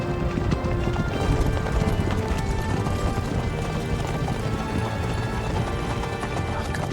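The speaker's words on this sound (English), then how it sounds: "hearing that thundering of horses" Horses gallop in the video game Kingdom Come Deliverance 2, a dense, continuous drumming of hooves thundering close by for several seconds.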